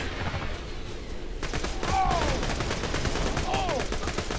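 Pistol shots in the co-op shooter Borderlands 2, a burst of sharp gunfire cracks over busy game noise with a couple of whooshing streaks, loud and close.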